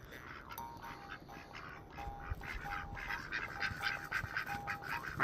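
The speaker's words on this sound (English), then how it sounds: "We got ducks." Ducks quacking repeatedly in short, nasal bursts at fairly close range, with overlapping calls from several birds over a quiet outdoor background.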